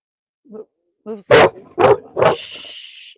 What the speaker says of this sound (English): There's a dog across the street.